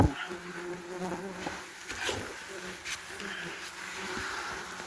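German wasps swarm around a big nest, giving a steady, close, droning buzz that rises and falls as insects pass, with faint murmuring voice underneath.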